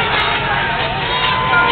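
Crowd at a 2010 demolition derby in Evanston, Wyoming, cheering and hollering in a dense, continuous roar, loud and close throughout.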